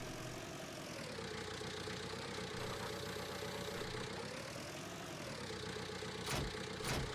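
A Ford tractor idles in Farming Simulator 19, a steady mid-pitched engine drone with a slight rise and fall in pitch, running continuously and alone, with a couple of brief clunks near the end.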